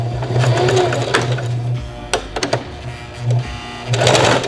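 Sewing machine stitching darts on clothing back panels, running in short bursts of rapid mechanical whirring with pauses and small handling clicks between, close by.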